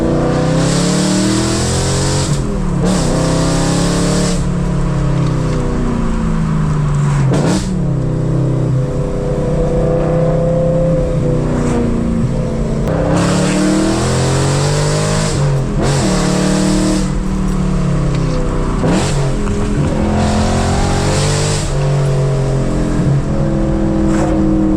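A BMW E92 M3 engine revs hard and loud through canyon roads, pitch repeatedly climbing and dropping with gear changes and throttle lifts, sustained and close with no talking.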